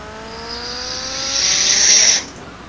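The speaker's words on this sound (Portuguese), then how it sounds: "Toda hora passa caminhão aqui pra me atrapalhar, cara." A truck passing by in the video game GTA Vice City, its engine whine and tire hiss swelling as it nears, peaking close by, then cutting off abruptly, with no talk over it.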